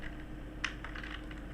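Quiet, close typing of Java code on a computer keyboard: a few soft scattered keystrokes with one sharper click, over a low steady hum.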